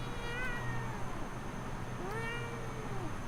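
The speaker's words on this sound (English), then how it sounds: "There's a cat outside." A cat meows outside in the game Ellen, two drawn-out, wavering meows separated by a pause, moderately faint over a low background hum.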